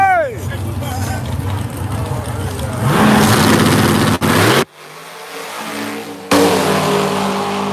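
A car on a drag strip revs its engine loudly and close, the pitch sweeping up and holding with a couple of abrupt cut-offs before the roar returns, while spectators shout and talk over it.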